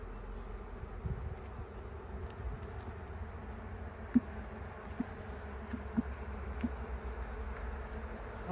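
Honeybees drone in a low, steady buzz close by around an open backyard hive, with a few faint soft clicks and no voices.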